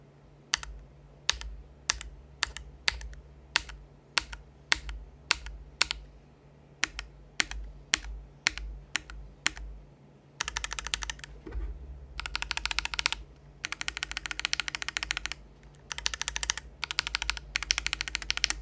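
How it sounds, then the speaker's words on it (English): Mechanical keyboard fitted with JWICK Black Ultimate and KTT Strawberry budget linear switches, heard first as slow, evenly spaced single keystrokes and then as bursts of fast, dense typing, close and clear with no talking. "a sound comparison between the JWICK Black Ultimates and the KTT Strawberry, which is also another Thocky budget linear switch"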